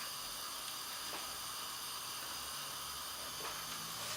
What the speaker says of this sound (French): Revenir mon foie un petit peu. Alors, avec un petit peu d'huile d'olive.